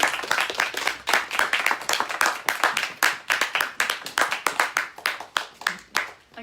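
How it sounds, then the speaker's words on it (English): A small audience at an evening spoken-word event claps, the individual hand claps distinct and rhythmic, close and fairly loud, thinning out and stopping at the end. "One last round of applause for Caleb Parkin."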